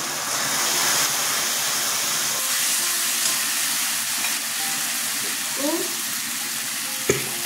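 Turmeric, cumin and coriander powder fry with tomato paste and chilli in a pan for a vegetable chhakka, a steady close sizzle with scraping stirs and a brief clink near the end.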